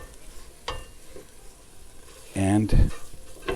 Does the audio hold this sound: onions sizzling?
yes